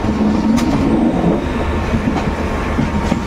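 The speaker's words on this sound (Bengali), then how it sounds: "অমৃতসর জংশন ছেড়ে আমাদের ট্রেন বেরিয়ে যাচ্ছে।" The Amritsar Mail train pulling out of Amritsar Junction, a loud steady rumble of railcars with rhythmic clickety-clack of wheels on rails, heard close from on board.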